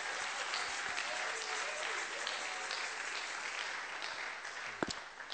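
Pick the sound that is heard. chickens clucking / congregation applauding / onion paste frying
congregation applauding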